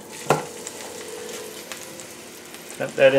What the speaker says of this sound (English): You hear the sizzle. All hail the sizzle.